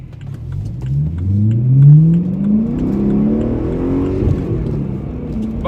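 A BMW M3 with a V8 engine pulls out and accelerates through snowy winter traffic, its engine note rising through the revs in a single strong sweep before settling, heard from inside the car.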